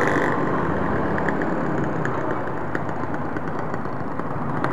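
An original, unmodified motorcycle engine idles with a steady, loud, rough drone that stays even throughout and has faint ticking on top.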